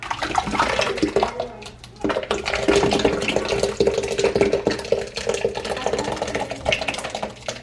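Liquid pours steadily from a large stock pot into a 10-quart crock pot in a home kitchen, a close, continuous splashing gurgle that dips briefly partway through and then carries on.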